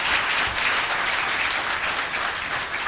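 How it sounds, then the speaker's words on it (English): An audience at a live conversation event with OpenAI CEO Sam Altman gives a steady round of applause, a dense, even wash of many hands clapping that holds at a constant level throughout, without voices. "everyone please give him a real round of applause for coming here and being so open"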